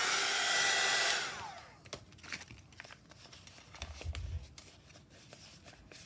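A hair dryer blows loudly on a damp paper tag for about a second and then cuts off, followed by soft rustling and light tapping of paper.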